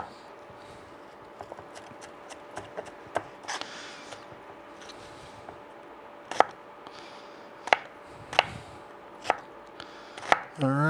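A knife chops onion on a cutting board for chow mein, sharp irregular knocks spaced apart, some single and some in quick pairs, close and clear over a faint background hum.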